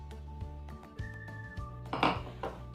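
Mince, breadcrumb and wet mixture for sausage rolls being mixed in a bowl, giving clinks and scrapes against the bowl under a steady background hum, with a louder scraping burst near the end.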